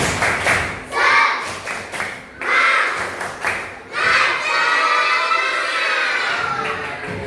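Schoolchildren in a classroom do a rhythmic clapping cheer as an icebreaker, bursts of group claps with young voices shouting along, loud and close, followed by a sustained stretch of claps and chanting.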